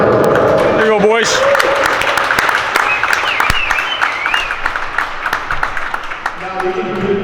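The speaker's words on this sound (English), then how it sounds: "And then round of applause for Seattle." Applause for a visiting Seattle youth team at a JV tournament awards ceremony between the Eagles and Spartans, a crowd clapping steadily throughout, with voices and chatter mixed in and a brief loud burst near the start.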